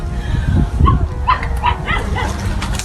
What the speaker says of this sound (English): their ears picked up the faint, pitiful cries of a puppy in distress